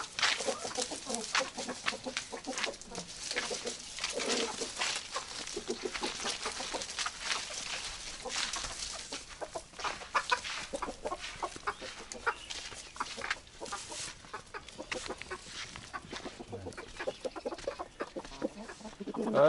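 Chickens and a rooster clucking and murmuring as the flock walks along on a farm, soft continuous calls over scuffing, rustling outdoor noise, with occasional quiet voices nearby.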